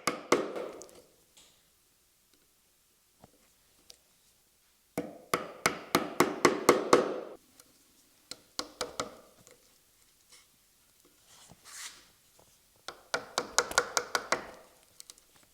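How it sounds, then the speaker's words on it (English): A 3/8 chisel is struck into a dovetail's scribe line to chop waste, giving bursts of rapid, close mallet taps separated by quiet pauses, with no talk. "now I'm going to set my chisel directly into my scribe line"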